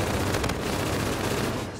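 Rapid, sustained automatic assault rifle fire in a Call of Duty video game, loud and close, a dense continuous rattle of shots lasting nearly two seconds with no talk.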